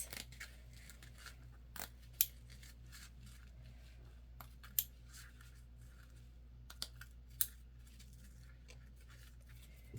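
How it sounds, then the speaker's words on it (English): Scissors snip fabric near the stitching on a sewn crossbody bag, giving faint, sparse cuts spaced a second or two apart over a quiet, steady background hum. "You just want to cut enough away that it won't be seen, but not cut your stitches."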